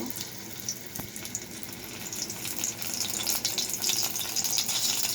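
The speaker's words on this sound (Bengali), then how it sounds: "মাছের পেটিটাও ভেজে নিচ্ছি" Fish belly pieces frying in a kadai on a stove, a hissing, crackling sizzle that swells and grows louder over the few seconds, with no talking.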